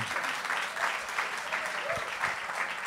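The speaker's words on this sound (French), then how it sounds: "on peut l'applaudir." An audience in a conference hall applauds a speaker being introduced, a steady dense wash of clapping from many hands that holds evenly throughout at moderate volume.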